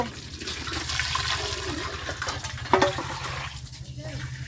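Water running from a pipe, a steady rushing splash with a rhythmic low pulsing underneath, close by, with a voice speaking partway through.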